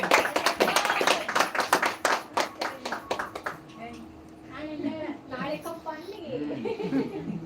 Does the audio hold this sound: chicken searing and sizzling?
no